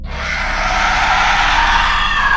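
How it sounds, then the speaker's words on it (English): A ghostly woman lets out an ear-piercing shriek, one loud, sustained, high scream that holds without a break for over two seconds, close and alone. "she opened her mouth and let out an ear-piercing shriek"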